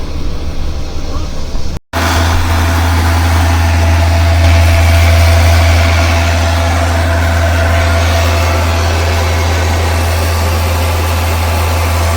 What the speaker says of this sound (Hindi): ये हमारे 2000 आरपीएम आ चुके हैं और डीपीएफ रीजनरेशन चल रही है।